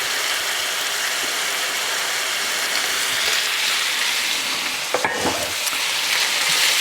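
Sloppy joe mixture with yellow mustard being stirred in a pan, a steady close scraping and sizzling texture throughout with a brief sharper clatter near the end.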